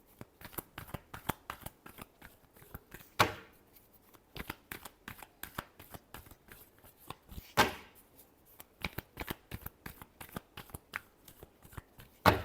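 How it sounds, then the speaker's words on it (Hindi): Tarot cards are shuffled close up, giving rapid soft riffling clatters and sharp slaps in uneven bursts, with two louder riffles standing out and no talking. "last shuffle"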